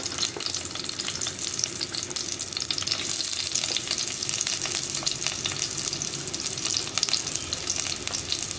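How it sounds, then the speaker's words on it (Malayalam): Chopped onions frying in coconut oil in a pan, a steady bright sizzle with faint stirring scrapes, close and continuous with no talking. "ഇതിലേക്ക് നമുക്ക് കട്ട് ചെയ്ത് വെച്ച സവോള ഇട്ട് കൊടുക്കാം."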